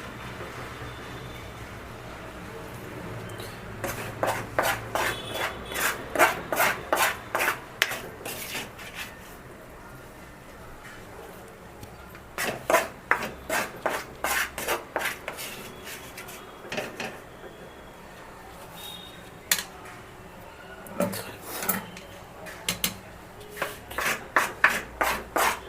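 A spoon scrapes and rasps fried onion out of a cooking pan, with repeated quick scraping strokes in several bursts, close and moderately loud.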